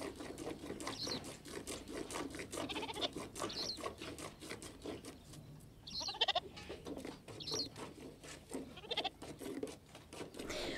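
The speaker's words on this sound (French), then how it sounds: "Les chèvres, plus ou moins dociles, se laissent traire" Goats being milked by hand give soft, fairly distant bleats every second or two over a steady rhythmic patter of squirting milk.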